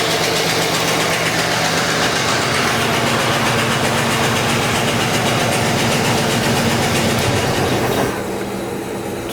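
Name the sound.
1984 Mercury Capri engine idling with a slight stumble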